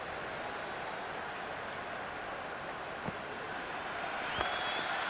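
Crowd in a cricket video game during an IPL-style Lucknow Super Giants vs Chennai Super Kings match, a steady distant roar of cheering and applause with a couple of brief sharp knocks.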